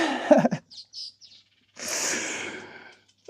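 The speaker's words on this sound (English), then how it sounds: "I love the sounds of birds." Birds sing in short, faint chirps and tweets after a brief sound at the start, followed by a longer breathy hiss, with no talking.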